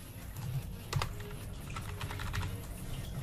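Rapid, uneven keystrokes on a computer keyboard as a password is typed on a Windows PC, close and clear with no talking.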